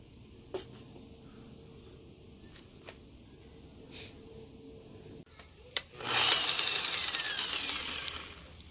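An electric buffer whirs up to polish a car headlight, starting with a loud burst of rushing motor noise after several faint taps and clicks in a quiet setting.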